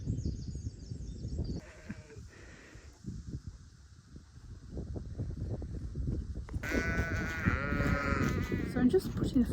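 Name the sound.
sheep bleating on a farm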